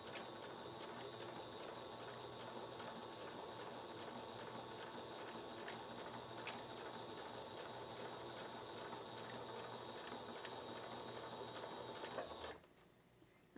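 A sewing machine stitches a fabric project bag in one continuous run of rapid, even mechanical clatter for about twelve seconds, then stops abruptly; no one talks.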